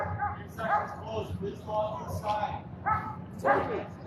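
A police dog barks and yelps amid a tense downtown standoff, the sharp repeated barks and whines mixed with excited talking nearby, captured from a distance on a busy street.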